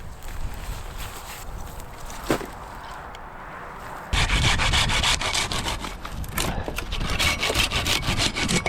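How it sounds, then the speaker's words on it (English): A brand-new sharp hand saw cuts through old, dry twigs while camping beside a highway, starting with light scraping and a snap, then steady loud rasping back-and-forth strokes close by. "let me just trim up this area because there's a lot of twigs in the way of what I need to do"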